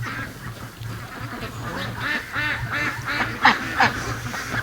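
A large flock of free-range ducks quacks steadily and busily up close, with overlapping calls forming a continuous chorus and a couple of louder, sharper quacks near the end.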